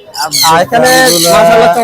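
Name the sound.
birds calling at a bird market, cockatiels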